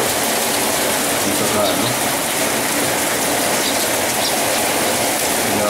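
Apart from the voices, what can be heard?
rain during typhoon Pablo in Dipolog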